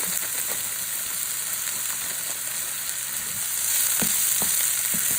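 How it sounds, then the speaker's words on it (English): Pre-cut onions from a vegetarian meal kit frying in a pan, giving a dense, steady close sizzle that swells slightly toward the end, broken by a few light utensil taps; no voices. "pre-cut onions into the same pan"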